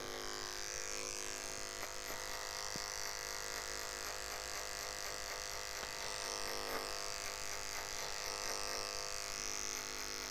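Electric hair clippers fitted with a one guard buzz steadily and fairly quietly throughout while cutting a fade in a barber's workshop, with no talk.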